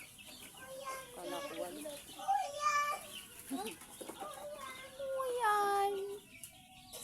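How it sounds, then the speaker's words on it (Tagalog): Baby chicks being raised by a breeder peep in short, high, bright chirps, scattered and close, while a person speaks quietly among them. "Sisiw. Sisiw."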